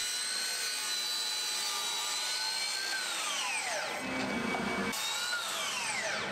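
A miter saw spins up with a high whine and cuts solid oak trim, the pitch dropping as the blade bites in, then a second quick cut follows; loud and close with no voices.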